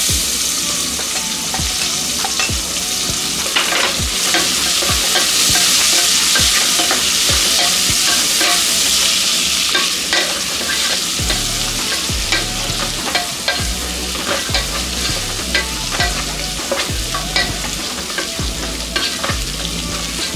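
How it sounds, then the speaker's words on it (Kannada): Tomato and onion frying in oil for a lentil dish with fenugreek leaves, a steady loud sizzle with repeated stirring scrapes throughout, close by and without talk. "ಒಂದು 2 ನಿಮಿಷ ಟೊಮೆಟೊ ಮತ್ತು ಈರುಳ್ಳಿ ಇದೇ ರೀತಿ ಎಣ್ಣೆಯಲ್ಲಿ ಫ್ರೈ ಆಗೋದಕ್ಕೆ ಬಿಡೋಣ"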